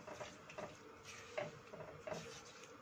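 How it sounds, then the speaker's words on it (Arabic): Turmeric stirred through hot oil in a pan, with a few soft scraping strokes and a faint sizzle, quiet and close. "ونقلب الكركم بقى شويه كده في الزيت بتاعنا. طبعا الزيت بتاعنا سخن."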